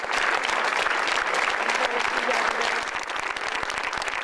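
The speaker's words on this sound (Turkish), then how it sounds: "hastanenin önünde alkışlarla anıldı" Steady, dense applause outside a hospital in Madrid honoring a nurse, a crowd clapping continuously throughout with some mixed voices underneath.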